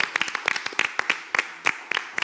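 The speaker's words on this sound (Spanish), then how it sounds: "Nos despedimos con un fuerte aplauso." Studio audience clapping on a talk show, a sparse, uneven run of distinct close claps from a small group, with no speech over it.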